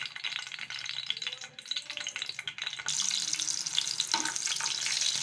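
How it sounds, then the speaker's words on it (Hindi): Green chillies frying in hot oil give a steady crackling sizzle, growing brighter and louder partway through, with no voices. "अब ये 5 से 10 मिर्चें मैंने फ्राई होने के लिए डाल दी है ऑयल में"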